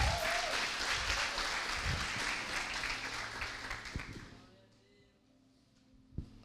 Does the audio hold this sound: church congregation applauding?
yes